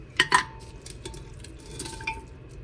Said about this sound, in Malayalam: കഴുകി വെച്ച ഇറച്ചി നമുക്ക് കുക്കറിലേക്ക് ഇട്ട് കൊടുക്കാം